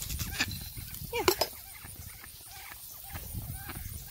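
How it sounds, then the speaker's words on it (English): Large farmyard hens cluck and call, close by in short uneven bursts over a rough outdoor background, with scattered louder squawks. "My big hens have come up."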